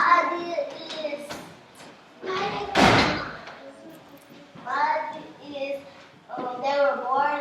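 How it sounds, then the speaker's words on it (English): A classroom door is shut with one loud thud near the middle, set between stretches of a teacher and young children talking. "I have to shut the door"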